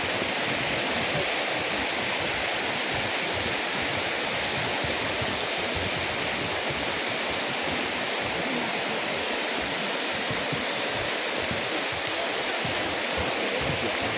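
A river rushing through Huanglong in Sichuan on a snowy day: a dense, steady roar of flowing water, loud and unbroken throughout with no pauses.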